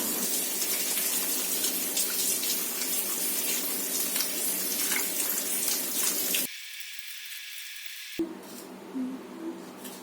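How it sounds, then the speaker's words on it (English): Cabbage leaves are washed one by one under a running tap, water splashing and gushing steadily close by, then the flow cuts off briefly before resuming with lighter drips and splashes. "Wash it properly and thoroughly one by one."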